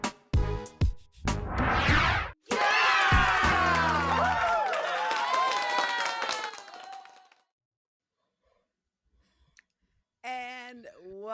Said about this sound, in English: I meant to have some applause